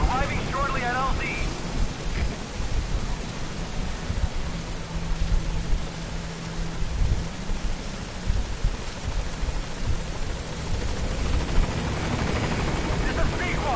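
A helicopter arriving at a landing zone in Metal Gear Solid V, with a steady, loud rotor roar and engine whine throughout and a faint voice in the mix.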